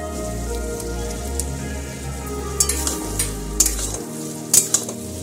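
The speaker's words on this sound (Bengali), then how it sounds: "বেগুনগুলো ভালো করে কষিয়ে নিয়ে হয়ে গেছে।" Eggplant pieces stir-fried in a hot pan for a Bengali hilsa curry, a steady close sizzle with scraping stirs and sharp spatula clatters toward the end, no voices.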